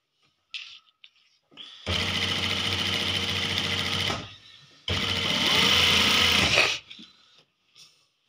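Sewing machine stitching fabric for a shalwar, in two steady runs of about two and four seconds separated by a short pause, loud and close with no talking.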